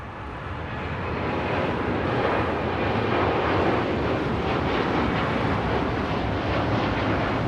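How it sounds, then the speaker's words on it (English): American Airlines Boeing 787-9 Dreamliner departing LAX on runway 25 right, its jet roar swelling over the first second and then holding as a loud, sustained rumble with no talk. "This is American Airlines Flight 1799 taking off to Philadelphia on a 787-9 Dreamliner."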